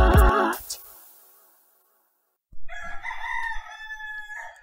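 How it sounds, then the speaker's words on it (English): A rooster in Cape Coast, Ghana, gives a long, clear crow that rises and falls over a couple of seconds. It follows a brief burst of other sound and a short silence, and is heard near and alone. "that is the rooster over in Cape Coast, Ghana"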